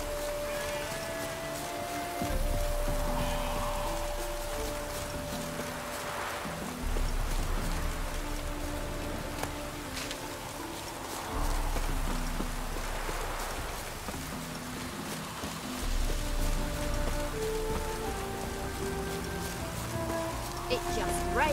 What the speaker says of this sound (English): Doing any work in this rain.